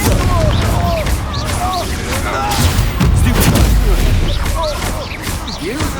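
Confringo fire-spell blasts in Hogwarts Legacy during a wizard duel, repeated booming explosive impacts over a busy battle din with whooshing magical effects and voices speaking throughout.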